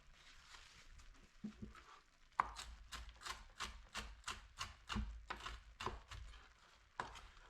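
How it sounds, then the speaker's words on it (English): A knife chops bacon on a cutting board in a home kitchen, the first taps sparse and quiet, then about a dozen sharp, evenly spaced strikes ring out close by with no talk. "At this point, we're going to cut our bacon up."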